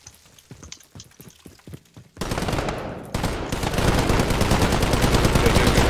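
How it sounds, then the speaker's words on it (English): Suppressing gunfire in a video game starts as sparse individual shots, then becomes sustained, loud automatic fire that grows denser and keeps going. "I'll throw down suppressing fire while you rush"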